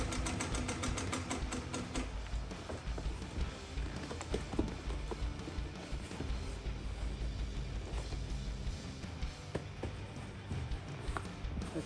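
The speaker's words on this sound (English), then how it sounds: "Let me just finish sewing this up." A sewing machine stitches a custom motorcycle seat cover for a Harley Road King in a car shop, keeping up a continuous rapid mechanical chatter with small ticks and knocks. It is fairly quiet, with no voices.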